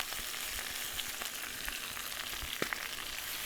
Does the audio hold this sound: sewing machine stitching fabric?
no